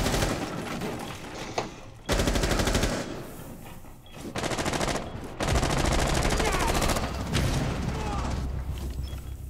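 Rainbow Six Siege gunfight with repeated bursts of automatic fire and sharp shots, loud and close, broken by short pauses, while a player talks over it.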